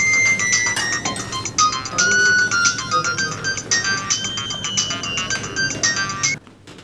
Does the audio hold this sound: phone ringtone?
yes